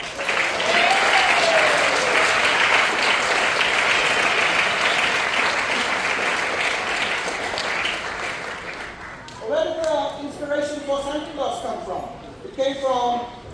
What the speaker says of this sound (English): Let us applaud for Thailand.